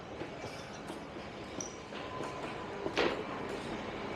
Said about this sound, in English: This is probably our train, because this is coming in here.